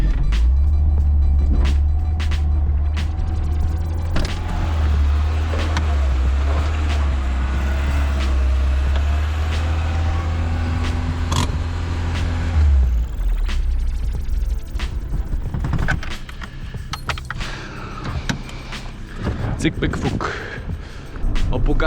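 Old 1979 Opel Rekord or Lada 2104 taking a short run-up and climbing a hill, its engine a loud steady low drone that drops away partway through, with mechanical creaks and rattles continuing.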